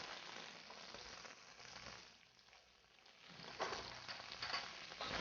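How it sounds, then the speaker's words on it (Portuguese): Onion sautéing in a pan, a steady broadband sizzle and frying crackle that dips briefly and then swells louder again, with stirring noises and no talk. "Vamos continuar refogando."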